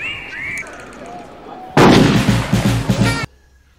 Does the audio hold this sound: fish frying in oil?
no